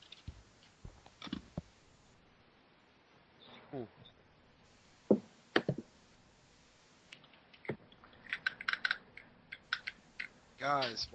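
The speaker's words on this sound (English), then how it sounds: "Guys, why are you all typing?" Scattered bursts of keyboard typing from several people, quiet clicks and taps coming and going over a low background hiss, with brief spoken moments in between.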